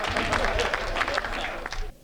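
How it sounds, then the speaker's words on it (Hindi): An audience at a Hindi comedy and poetry show claps loudly on cue, a dense burst of applause with a murmur of voices, cutting off abruptly near the end. "एक बार जोरदार ताली से।"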